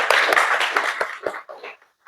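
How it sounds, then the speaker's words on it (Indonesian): A classroom group applauding a student for a good question during a 2D animation lecture, a brief burst of close, fairly loud hand claps that thins out and stops within about two seconds. "Kasih tepuk tangan dulu buat Aldo"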